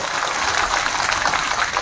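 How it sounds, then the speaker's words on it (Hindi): A large crowd at a political party rally applauds steadily, dense clapping filling the space for a couple of seconds without letup. "एक बार जोर से कस के अपने खुद के लिए तालियां बजा दें"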